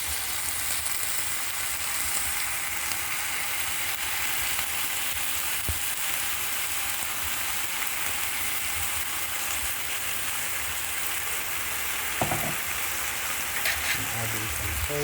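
Garlic, ginger and soy sauce sizzle in a frying pan with a dense, even hiss that holds steady throughout, and a few brief clinks and a louder spatter come near the end.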